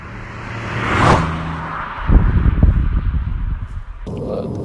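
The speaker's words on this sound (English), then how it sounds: "second gear, accelerate, 30, 40, 50, 60, and then into third gear" Mini Cooper F55 5-door hatch accelerating hard through second gear, then shifting into third; engine note builds, a brief dip marks the gearchange, and strong road and engine rumble carries on close in the cabin.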